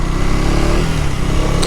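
Continuous close motorcycle engine roar with wind rush while riding the Agumbe Ghat road, loud and unbroken over a short stretch.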